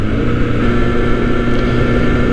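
A Honda Nighthawk sport bike rumbles steadily along a rough road, its engine a constant mid-pitched drone with road roar, close and loud, with no talking.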